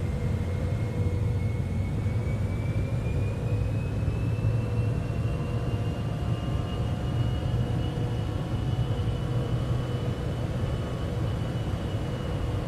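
Steady, loud jet engine rumble inside a charter jet's cockpit on final approach, with flaps extending and landing gear coming down; a continuous broadband roar with faint tonal whines and no voices.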